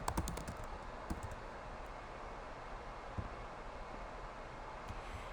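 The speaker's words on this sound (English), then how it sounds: "You're going to type in the address right here." Someone types an address on a computer keyboard: a quick cluster of faint key clicks at the start, then a few sparse, soft taps over a low room hum.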